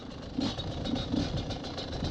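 A dirt bike engine drones steadily out on a frozen lake, a continuous rough mid-pitched hum with a slight pulsing rhythm, fairly close and loud.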